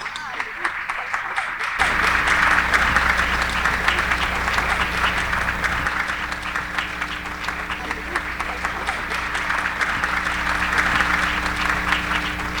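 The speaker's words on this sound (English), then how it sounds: "More round of applause." Sustained audience applause at a morning meeting, many hands clapping in a dense, steady wash that starts abruptly after a quiet moment and holds loudly throughout with slight swells.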